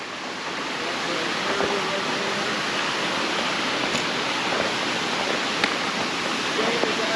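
A mountain stream flows along the Kalalau Trail with a steady, broadband rushing wash of water that holds at an even level throughout, close and continuous.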